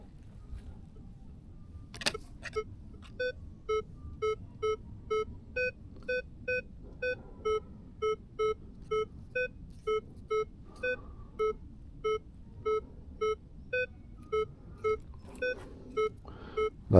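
Metal detector over a buried target in a field, sweeping in a cross pattern, giving a steady run of evenly spaced electronic beeps over low background rumble, with one sharp knock near the start.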